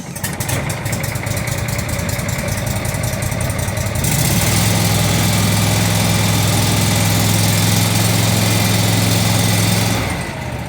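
A Walker MT mower engine idles steadily just after starting, a loud, even mechanical drone that holds constant and shifts slightly in tone partway through as the choke comes off.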